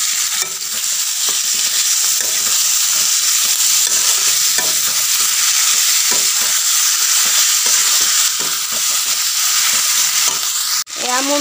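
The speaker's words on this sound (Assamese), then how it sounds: "এয়া মোৰ মাংসখিনি এনেদৰে মই লৰাই দিছোঁ। অলপ দেৰি ভাজিম" Marinated goat mutton is stirred and fried in a pan over reddened onions for an Assamese-style curry, giving a loud, continuous sizzle broken by repeated scraping strokes of a spoon.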